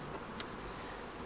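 Calm honey bees buzz at an open long hive, a steady dense hum with no break, close and even in loudness, with no talking.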